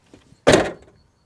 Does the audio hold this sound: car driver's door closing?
yes